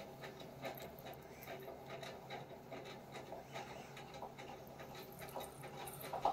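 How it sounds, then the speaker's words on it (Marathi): A sewing machine stitches blouse fabric for a Maharashtrian-style blouse design, giving a faint, rapid and steady mechanical ticking that continues without a break and with no voices. "आपल्याला अशी शिलाई मारून घ्यायची आहे"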